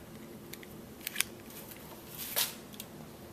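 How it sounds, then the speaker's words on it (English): Scissors snip through spare paracord above a crimped ring terminal on a coiled lanyard, giving a few quiet crisp cuts followed by a sharper snip and faint rustling. "you're going to want to cut off that extra length of paracord."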